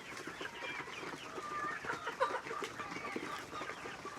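Chickens cluck and chatter while feeding on a farm in Cebu, a soft, busy flock sound with scattered clucks and one sharper squawk, fairly faint and close.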